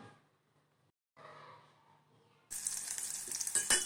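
Sizzling of garlic fried in hot oil, starting quiet and then bursting into loud, steady crackling hiss as something is added to the pan partway through; no talking.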